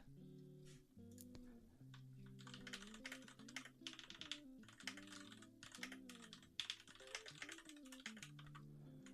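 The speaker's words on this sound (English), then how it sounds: "that's just me typing a message." Quick, steady keystrokes clatter on a computer keyboard as a message is typed, the clicks running continuously beneath quiet background music.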